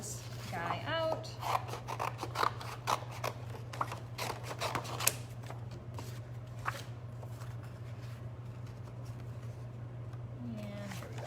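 Scissors snipping through cardstock for a mixed media bison piece, a run of crisp close cuts and rustling paper over a steady low hum, thinning out in the second half.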